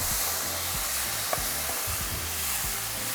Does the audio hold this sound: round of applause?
no